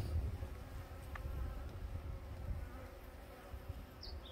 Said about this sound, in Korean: 벌량이 많습니다, 벌량이.